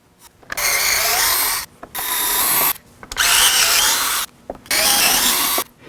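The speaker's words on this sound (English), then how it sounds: "get your torque 25 screwdriver or electro screwdriver and get the screws out" An electric screwdriver backs screws out of a motorcycle dashboard, four buzzing whirring runs of about a second each separated by short pauses, close up with no talking.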